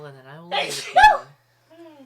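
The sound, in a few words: sneeze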